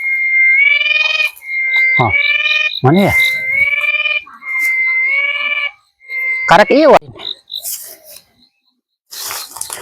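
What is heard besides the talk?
loud cicada in a rubber plantation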